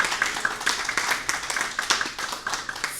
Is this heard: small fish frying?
no